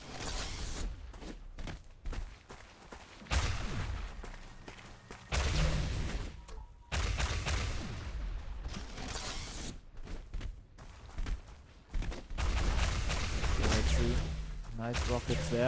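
Rockets launch and explode in a ShootMania competitive match, with repeated sharp blasts and bursts of mechanical clatter spread across the round. A commentator talks over much of it.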